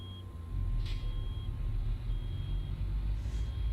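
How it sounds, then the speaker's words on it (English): A low air pressure alarm sounds in a truck in Euro Truck Simulator 2, a thin steady electronic tone held over a deep idling engine rumble, with a couple of brief brighter blips. "Build up a little air pressure. Get rid of that alarm."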